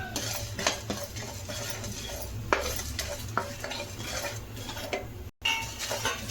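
Cumin and chillies dry roasting in a pan for mutton chukka, with steady stirring scrapes, light clinks of a spoon against the pan and a faint sizzle running throughout, close and continuous.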